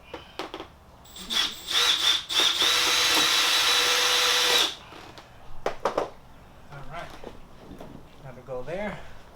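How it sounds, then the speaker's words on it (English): A power drill drives self-tapping screws into a carbon fiber front lip under a jacked-up 2001 BMW E46 M3. It gives a few short bursts and then one sustained whine of about two seconds, close and loud, with someone talking around it. "in order to get under and install the self-tapping screws"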